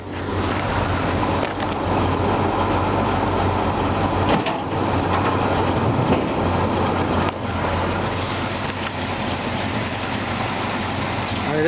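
A 1954 Chevy 3100 pickup's 235 six-cylinder idles steadily nearby, its monojet carburetor drawing air with a continuous low rumble and breathy intake hiss, running alone without pause for the whole stretch.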